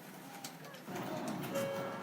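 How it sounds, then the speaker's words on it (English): The Sakura tram, a streetcar in an older central Tokyo neighbourhood, rolls closer with a low rumble and a rising whine, while a pigeon coos faintly in the background. "That's the sound of the Sakura tram."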